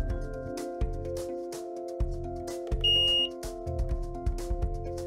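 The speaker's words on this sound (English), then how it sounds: "Press and hold the number until you hear the system beep." A single short electronic beep from a 2017 Honda Pilot's audio system rings out over a steady hum and periodic low thumping, with no voices.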